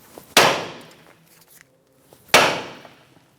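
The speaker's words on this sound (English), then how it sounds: "with a steady swing, we're going to hit that knuckle right there and jam that loose" A hammer strikes the steering knuckle of a 2013-2018 Toyota RAV4 twice, about two seconds apart, each a sharp loud metallic bang that rings and decays, with faint shop clatter between.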